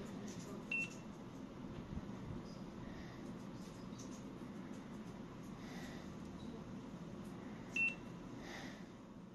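Newland MT90 mobile computer scanning barcodes, two brief high beeps several seconds apart over a steady low background hum.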